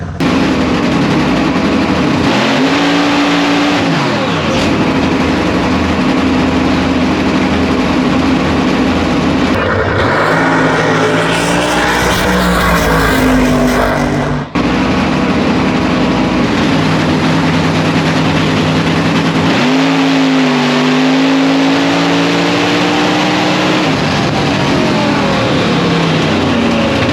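A drag race car accelerates down the track in a loud, continuous engine roar whose pitch climbs and shifts over nearly half a minute, with one sharp change partway through, heard from close by.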